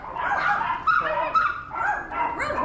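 A dog barks repeatedly at a house in Bangkok, a run of close, loud yapping barks in uneven bursts, with no speech over them.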